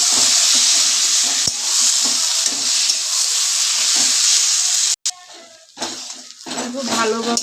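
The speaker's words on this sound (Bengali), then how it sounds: "মশলা সব দেওয়া হয়ে গেছে, আর কিছু নয়, ভালো করে এটা কষিয়ে নেব" Taro leaves with spices sautéing in a pan, a loud, dense hiss and sizzle that cuts off sharply after about five seconds, followed by quieter clatter and stirring sounds.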